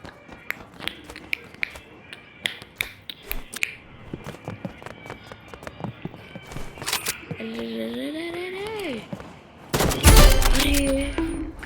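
Gunshots in the Roblox game Rivals, a series of sharp, rapid game-weapon cracks spread across the clip, with a louder burst near the end and a voice talking in places.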